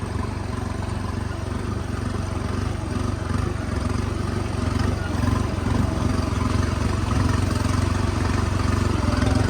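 A tractor in high second gear at under 1000 RPM strains to haul a trolley loaded with about 10 quintals of paddy up a steep field slope, its engine a steady, loud, deep throb that holds without a break.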